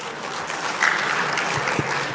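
Audience applause in a hall during a religious lecture, a steady wash of clapping at moderate level with a few sharper claps standing out near the end.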